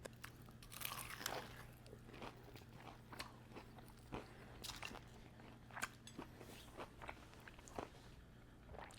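Repeated crisp crunching bites and chewing of crunchy fried chicken, close and fairly loud, with a steady low hum underneath and no talking.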